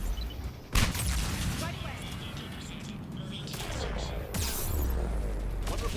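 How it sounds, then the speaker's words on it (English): A grenade goes off in a Mass Effect 3 firefight, giving a sharp close blast early on amid continuing gunfire and combat noise, with further bursts later and a voice talking over parts of it. "Grenade out."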